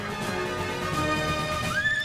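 Cartoon horses neighing and whinnying in an animated Zorro adventure, a loud, shrill rising whinny near the end over a busy background of other animated sound, with faint hoofbeats.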